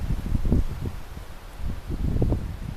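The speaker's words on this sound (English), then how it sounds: "It's kind of windy." Wind gusting on a wooded mountain overlook, low rumbling buffets with rustling leaves that rise and fall in two swells.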